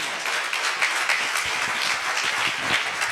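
Members of a church congregation clap in unison, a full, continuous wash of hand claps at a steady moderate loudness filling the room for a few seconds.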